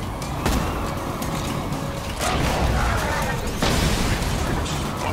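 Explosions in Borderlands 2, True Vault Hunter Mode, going off in the game as sharp booms among a dense, loud mix of weapon and mechanical noise, with several blasts close together.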